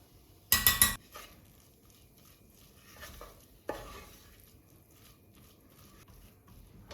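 Onion and flour being sautéed in a pan, with a burst of loud stirring and scraping near the start, then a single clunk and softer scraping against low background noise; no one speaks.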